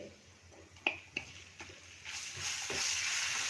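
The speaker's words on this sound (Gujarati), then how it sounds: "એને પણ આપણે સોતળી લેશું" Ginger-chili paste sautéing in a samosa filling masala over a low flame, with a few sharp spoon scrapes early on, then a steady sizzle that grows louder and fuller.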